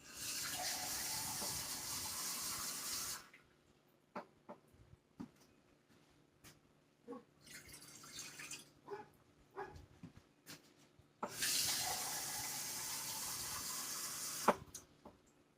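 Tap water runs into a measuring cup for two cups of water during stovetop cooking, a steady bright rush for about three seconds, then quiet clinks and handling, then a second pour of similar length.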